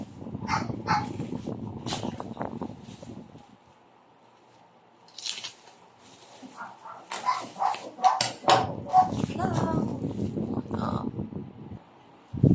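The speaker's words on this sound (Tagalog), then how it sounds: "ingay talaga ng aso na" A pet dog barks and yips in short sharp bursts indoors, fairly distant and intermittent, mixed with someone talking and rustling of packaging.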